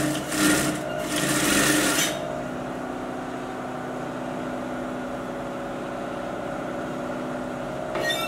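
A sewing machine stitches darts on a draped skirt: a loud, rapid mechanical whir runs for about two seconds, then cuts to a quieter steady hum, and a brief whir returns at the very end.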